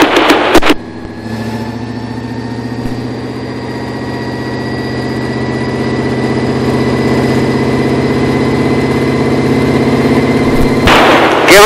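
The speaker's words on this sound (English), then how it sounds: "Give her a little bit more gas to get us moving a little faster there." An Indy Lights race car engine at Las Vegas Motor Speedway hums steadily at low revs, then rises gradually in pitch and loudness as more gas is applied, with brief clunks at the start and end.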